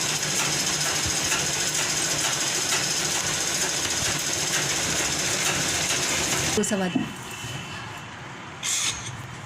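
A sewing machine runs steadily while stitching a fabric strip onto a kurti, a dense continuous mechanical whir for about seven seconds before it stops, followed by quieter handling sounds and a brief final burst.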